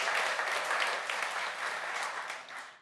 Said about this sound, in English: we need a big round of applause for everybody